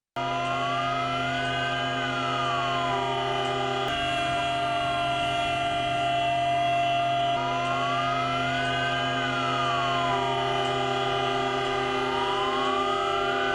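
A civil defense siren in the streets of İzmir wails steadily, rising and falling in slow cycles over a constant blended drone, loud and sustained throughout, with no distinct car horn blasts standing out.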